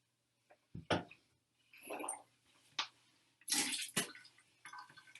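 Water swishing and spitting sounds in bursts, close to the microphone, with drips and splashes between them; no voices.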